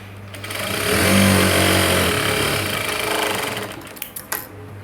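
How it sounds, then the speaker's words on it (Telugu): A sewing machine stitching a blouse seam runs steadily at close range with a continuous whirring drone, then slows with a few clicks near the end. "ఇలా పెట్టేసుకుని నీట్గా స్టిచ్ చేసుకుంటూ వెళ్ళిపోవాలి"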